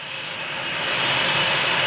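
A Ryanair jet airliner departing from Manchester Airport gives a steady, broad engine roar that grows gradually louder over two seconds, heard at some distance with no voices.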